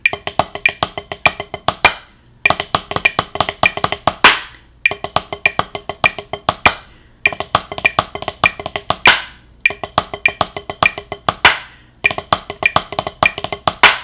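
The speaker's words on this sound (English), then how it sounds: "And you can also accent all of the left-hand notes." Drum kit playing the Herta rudiment with accented left-hand notes, fast repeated bursts of crisp strokes grouped in phrases, separated by brief gaps, close and loud.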